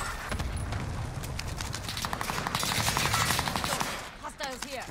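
Rapid automatic gunfire in the video game Warzone, dense bursts of shots rattling continuously for several seconds with game effects layered in, loud and close.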